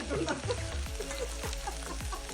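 Mustard seeds spluttering and spinach frying in oil in a hostel kitchen, close busy sizzling with scattered pops and stirring, no voices.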